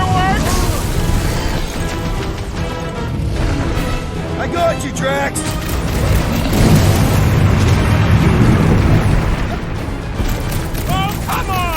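Booming fireballs and explosions fill a Guardians of the Galaxy video game battle, a dense, loud barrage of blasts and rumbles running throughout under frequent shouted character dialogue.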